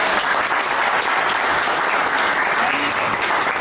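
An audience claps loudly and continuously at an event honouring a retiree, a dense, even wash of applause that fills the whole stretch.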